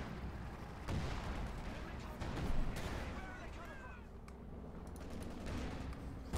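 Explosions and artillery-like gunfire from a war video game, with soldiers being blown apart; the booms and bursts rumble steadily beneath a commentator's continuous talk.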